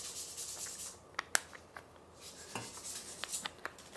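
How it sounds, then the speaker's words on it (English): Metal shafts of a Harrisville 4-treadle loom being sanded by hand to remove roughness, heard as faint scattered scraping strokes and light metallic clinks, close by and without talk. "sanding the metal shafts to get some of the roughness off of them"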